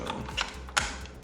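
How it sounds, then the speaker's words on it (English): Pins are pushed back into a KRISS Vector .22lr rifle, giving a few sharp, close metallic clicks and small mechanical rattles over about a second. "And then reset your pins back in."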